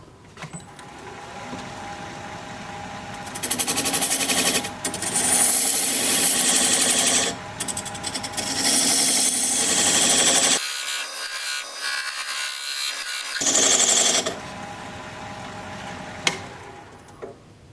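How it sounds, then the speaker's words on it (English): Diamond point tool cutting the sides of a wooden tenon on a wood lathe, a steady scraping and rubbing hiss in bursts with brief pauses and one sharp silent gap. "I'm going to switch to this diamond point tool so I can square up the sides of the tenon"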